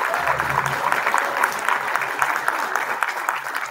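Applause rises from a middle school spring concert audience, a dense steady patter of many hands at moderate volume, with a brief low murmur near the start.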